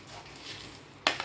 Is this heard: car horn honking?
no